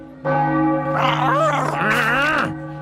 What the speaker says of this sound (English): how can anyone read anything with that annoying bell? it's coming from up there.